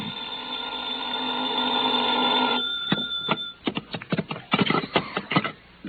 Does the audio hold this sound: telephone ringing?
yes